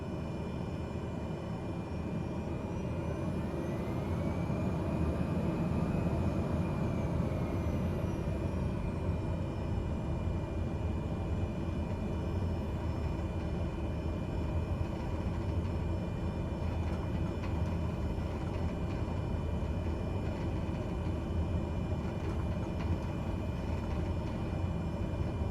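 A Cessna 208B Grand Caravan takes off in a flight simulator near Niagara Falls, its engine holding a loud, steady drone throughout, with a whining tone that swells and fades early in the run and no voices.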